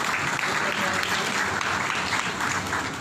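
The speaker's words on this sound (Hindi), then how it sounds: "जोर और तालियां खुदा के खादम के लिए" A church congregation claps together during a daily morning prayer meeting, dense steady applause filling the room for the whole stretch, loud and close.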